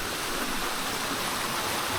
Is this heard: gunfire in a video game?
no